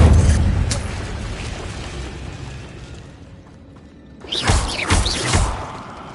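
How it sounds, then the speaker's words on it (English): An Incendio fire spell cast in Hogwarts Legacy: a deep booming burst that rolls off into a fading rumble, then a bright whooshing, crackling flare of fire a few seconds later, loud and close. "Incendio."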